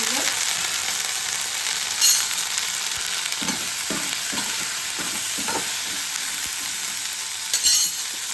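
Green chillies spit and sizzle in hot oil with asafoetida in a home kitchen pan, a steady loud frying hiss broken by a few sharp pops and brief stirring scrapes.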